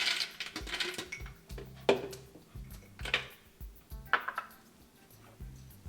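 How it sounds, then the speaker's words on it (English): Hard cashew nuts dropped into a blender jar, several bursts of clattering and clinking as the nuts hit and scatter against the container, with a few louder individual knocks between. "We'll put the cashews in a blender."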